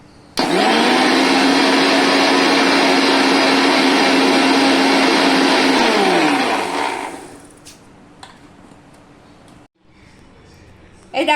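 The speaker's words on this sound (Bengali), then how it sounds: "মিক্সিতে ব্লেন্ড করে দেখাচ্ছি তোমাদের" Kitchen mixer grinder blending eggless mayonnaise, a loud steady whir running for about six seconds before winding down and stopping, followed by quiet handling noises.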